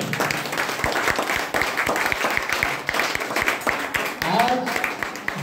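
A gathering at a DXN meeting breaks into loud applause, a crowd clapping in a strong, fairly regular rhythm, with a voice briefly rising over the clapping near the end.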